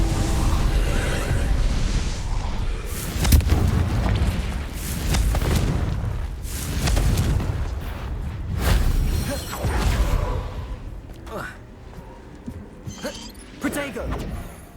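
Booming blasts from the Confringo fire-blasting spell in the Hogwarts Legacy game, several loud explosive bursts and whooshes spread through the stretch amid a busy game soundscape.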